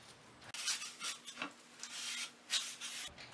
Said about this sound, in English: Just a piece of old cloth and wipe off